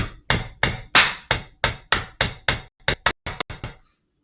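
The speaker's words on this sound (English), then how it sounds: "we're going to take our hammer, we're going to take our nail like this." A hammer strikes a nail into a metal can about a dozen times in a steady rhythm, the sharp, close, loud metallic blows speeding up slightly toward the end, with no talking.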